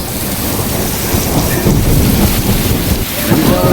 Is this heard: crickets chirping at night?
no